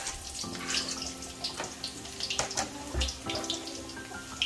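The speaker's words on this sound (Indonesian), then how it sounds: "kita akan menumis potongan bawang putih dan bawang merah dengan bumbu yang telah kita ulek hingga halus tadi" Chopped garlic and shallots sautéing in a pan for rawon, East Javanese beef soup: watery sizzling with intermittent clinks and stirring knocks, moderately close and uneven.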